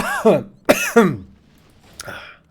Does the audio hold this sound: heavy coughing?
yes